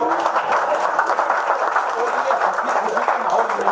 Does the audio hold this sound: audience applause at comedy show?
yes